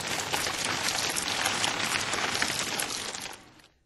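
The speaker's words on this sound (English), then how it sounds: "a garden hose and some houseplants become a rainy afternoon" Rain effect made with a garden hose spraying houseplants, a dense, close, continuous hiss of water pattering on leaves that fades out at the end.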